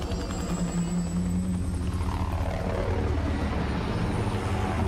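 A steady, loud rotor-and-engine drone of a helicopter in Call of Duty: Modern Warfare fills the whole stretch, continuous and close, with no voices.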